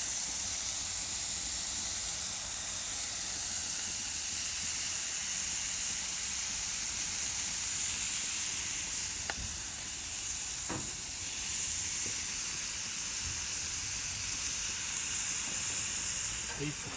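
Potatoes fry on a Blackstone 36 Pro griddle in a steady, even sizzle and hiss that runs throughout, with a couple of faint clicks partway through.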